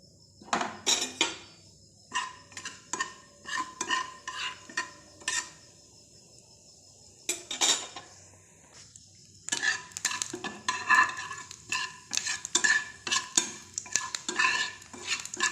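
Cumin seeds and dried red chillies temper in a frying pan on a gas stove for kachori, with bursts of crackling and spitting, bright clinks of a metal spoon stirring against the pan, and a short quiet gap between bursts.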